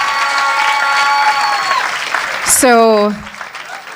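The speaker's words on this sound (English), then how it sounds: "So please give a round of applause to our leader of the opposition and party president." Applause from an audience at a Kingston and St Andrew party town hall forum, greeting the opposition leader and party president, a dense steady clapping under loud amplified voices and ringing sustained tones that fade into a sharp crowd swell near the end.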